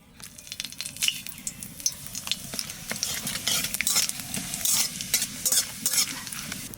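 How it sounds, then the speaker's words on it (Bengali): Cumin seeds and bay leaf sizzling in hot oil in a pan, a steady crackling hiss with brief clinks of a utensil stirring, close and fairly loud throughout, no voices. "তেলের পর দিয়ে দেবো জিরে আর তেজপাতা।"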